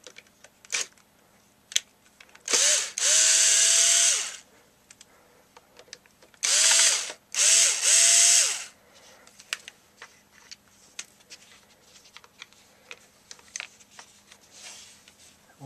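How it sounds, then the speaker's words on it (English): Screws backed out of the front of a Sony XDR-S3HD radio with a small electric driver, three short whirring bursts rising in pitch, amid quiet clicks and handling noises in a quiet room. "And we got a bunch of screws to take out in the front."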